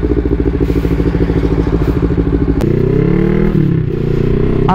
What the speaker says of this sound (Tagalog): Ito pala ang dala natin motor.